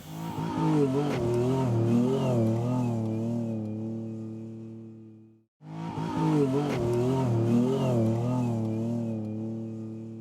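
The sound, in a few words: Jeep Wrangler Rubicon V6 engine revving in sand dunes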